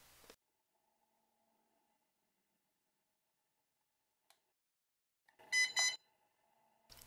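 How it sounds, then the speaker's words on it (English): A drone remote gives two quick, high electronic beeps close together while pairing, in an otherwise quiet room, preceded by a faint click. "It should make 2 beeps."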